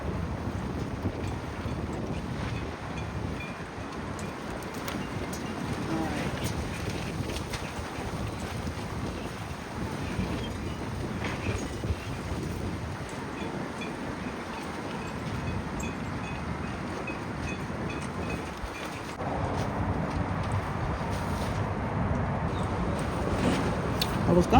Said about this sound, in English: This wind is blowing so hard.